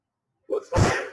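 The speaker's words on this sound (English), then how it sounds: "I had to sneeze there." A single sneeze, close and fairly loud, with a short sharp intake of breath just before the burst.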